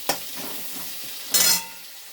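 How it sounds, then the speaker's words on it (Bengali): Eggplant dusted with salt and turmeric frying in hot oil in a home kitchen, with soft sizzling, two brief louder bursts of spitting or stirring, and no talk. "এবার ওই তেলে বেগুনটাও ভেজে নেব।"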